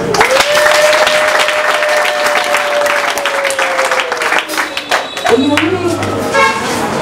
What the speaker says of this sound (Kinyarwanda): Niyo mpamvu mbasaba kuntiza ibiganza tukiha amashyi